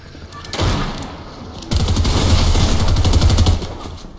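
In a Fortnite Zero Build match, gunfire starts as a short burst and then turns into a sustained, loud rapid-fire barrage that runs for several seconds before it stops.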